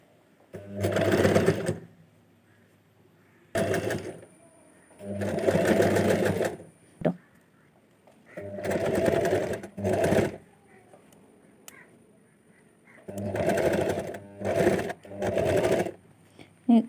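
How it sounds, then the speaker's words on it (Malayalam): Sewing machine stitching an invisible zip, running in several bursts of steady whirring stitches separated by short pauses, close and fairly loud. "നമ്മൾ സ്റ്റിച്ച് ചെയ്യാൻ പോവാണ് കേട്ടോ"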